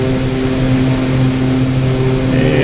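Bronco OV-10 aircraft in the DCS flight game climbing out after takeoff, a steady loud turboprop drone with strong tonal harmonics holding continuously throughout, close and unbroken.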